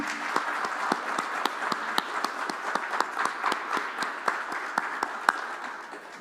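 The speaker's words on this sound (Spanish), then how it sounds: "Un aplauso." Congregation applauding during a church service, a steady run of fairly loud rhythmic claps from a group that carries on evenly and tapers slightly at the end.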